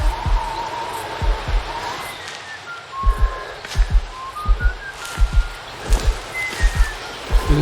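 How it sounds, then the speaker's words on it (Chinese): A melodic whistle in Sherlock Holmes: The Devil's Daughter, thin wavering tones drifting over steady footsteps and low ambience, moderately loud, with no talk. "这是吹口哨"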